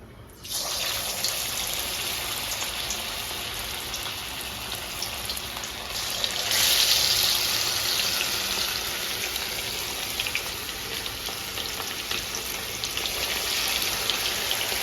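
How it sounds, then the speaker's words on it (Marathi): Chicken lollipops deep-frying in hot sunflower oil in a kadhai, a steady, loud sizzling hiss that runs continuously, briefly swelling a little partway through. "आता हे आपण गरम तेलामध्ये तळून घेऊया"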